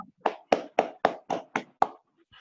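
About seven sharp, separate hand claps ring out in an irregular rhythm at an academic folklore forum, fairly close and loud against near silence, as if from a small audience or a single person.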